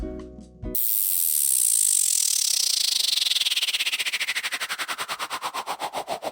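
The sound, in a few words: synth riser sound with LFO modulation, crispy and fluttery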